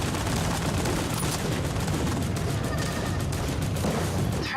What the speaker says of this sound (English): Let's just keep on shooting stuff.